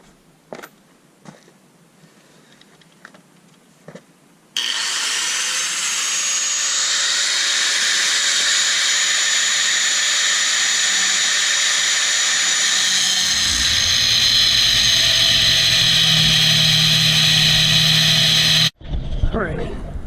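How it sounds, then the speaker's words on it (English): An angle grinder fitted with a cutoff wheel grinds down welds on a steel trailer A-frame, a loud steady high-pitched whine held for about fourteen seconds after a few faint taps, with the pitch shifting near the end before it cuts off. "clean surface and start grinding."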